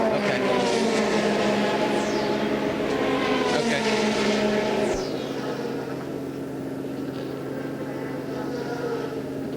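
A race car at the 2007 12 Hours of Sebring roars loudly past, its engine whining through shifts and sweeping by before the sound drops to a lower steady drone in the distance.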